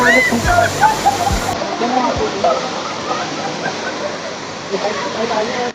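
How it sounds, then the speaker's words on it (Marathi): A year-round waterfall at Veer roars continuously as a dense wash of rushing water, with faint voices and a few low thumps mixed in early on. "बारा महिने धबधबा आहे बारा महिने पाणी असतं"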